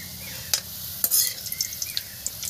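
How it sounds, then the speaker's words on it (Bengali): Bitter gourd and potatoes frying in a pan, a soft continuous sizzle with scraping stirs and a few light clinks of a spatula against the metal, close by and fairly quiet. "আপনারা এইভাবে ভেজে নেবেন, খুব সুন্দর।"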